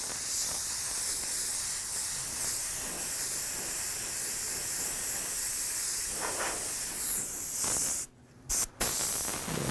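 An airbrush sprays orange paint in a loose base layer for a realistic fire design, giving a steady, close hiss that breaks off briefly near the end.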